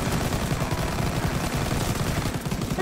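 Sustained automatic gunfire from an MG42 machine gun in the World War II shooter Call of Duty WW2, a dense, loud, unbroken stream of rapid shots filling the whole stretch with no talk over it.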